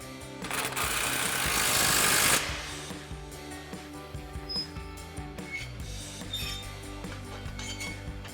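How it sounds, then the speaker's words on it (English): An impact wrench with a 15mm socket tightens a nut on a 2016-2024 Camaro suspension bolt: a loud buzzing burst of about two seconds, followed by faint metallic clinks and handling noises. "Now we'll go ahead and tighten that back down with our 15mm socket on our impact and our 18mm wrench."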